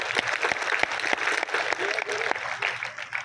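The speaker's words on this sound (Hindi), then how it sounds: "मैं चाहता हूं कि इस धरती के सम्मान में आपकी तालियां उठे।" Applause from a kavi sammelan audience honouring the soldiers of Rajasthan, with sharp individual claps standing out over a rougher crowd clapping bed, and a voice heard under it toward the end.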